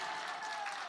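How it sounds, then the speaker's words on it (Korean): A church congregation applauding during a sermon: a brief, dense wash of many hands clapping together, steady and fairly loud, with no voice over it. "다시 한번 박수하겠습니다"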